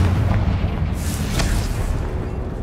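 Confringo blasting spell explosion in the video game Hogwarts Legacy: a dull, rumbling boom with a sharp crackling burst in the middle, loud and full, rolling off into a low sustained rumble.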